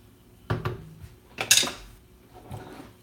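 Spoon stirring vegetable sinigang soup in a metal pot, three separate clanks and scrapes, with the middle one sharpest, set against quiet background.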